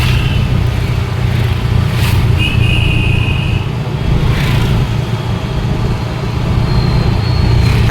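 Steady, loud traffic rumble of many vehicles, including autorickshaws, passing on a road, with engine drone throughout and a few brief higher whines and horn-like tones.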